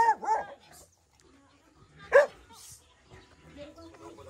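Dogs on a volcano hillside give a few scattered barks and yips: a pair of quick barks at the start, a louder sharp bark midway, then quieter whimpers, fairly close in an otherwise quiet setting.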